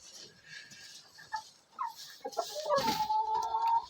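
Chickens by a newly built nest box clucking faintly at first, then a louder burst of overlapping clucks and squawks near the end, with scattered movement noise between calls.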